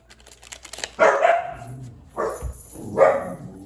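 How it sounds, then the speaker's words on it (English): A dog barks indoors, giving three sharp, fairly close barks spaced about a second apart after a faint start. "Sorry for the barks"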